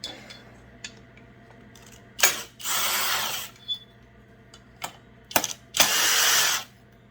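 A power tool grinding the exhaust port of a Husqvarna 372 XP chainsaw cylinder: a few short bursts and two longer high-pitched whirring passes, with small clicks and taps between them.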